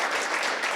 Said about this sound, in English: Thank you to our amazing panel. Give it up for them.